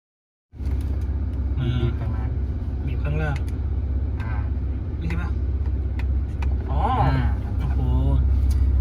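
A 400-horsepower Ford Ranger Raptor V6 pickup gives off a steady, deep engine and exhaust rumble that holds throughout, with people talking over it.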